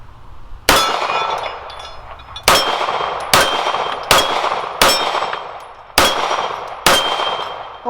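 Seven sharp metallic clangs ring out at uneven intervals as a Kimber KDS9c pistol fires 124 grain handloads at a steel target on a range, each impact loud and close with a brief ringing decay.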